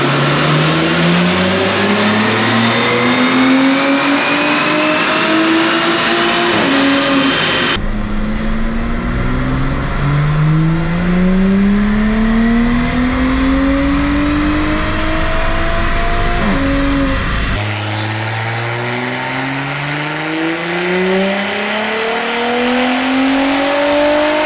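An Audi B9 fitted with an Integrated Engineering Stage 3 turbo runs on a dyno, its engine revving loudly and steadily climbing in pitch through repeated pulls, with rising whines sweeping upward across three long runs and no talking.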